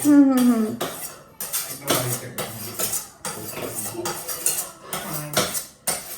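A spoon clinks and scrapes against dishes in a home kitchen where hilsa fish has been cooked, with repeated bright, close metallic taps in an irregular rhythm and a voice speaking briefly at the start.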